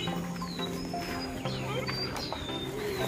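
Pigeons coo and call inside a racing pigeon loft, several birds close by in overlapping murmurs with faint chirps, while a person talks quietly in the background.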